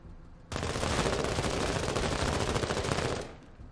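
Sustained burst of video game gunfire from soldiers in MENACE, a dense continuous machine-gun rattle that starts abruptly, holds loud for nearly three seconds, then cuts off.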